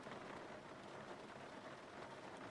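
Steady, dense hiss of simulated rain drumming on an airliner in the Zibo Mod 737 flight simulator, constant and fairly quiet with no distinct drops standing out.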